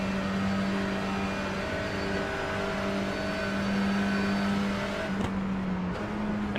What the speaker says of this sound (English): Now listen closely to the throttle